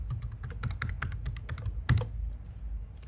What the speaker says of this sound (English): I will type in the password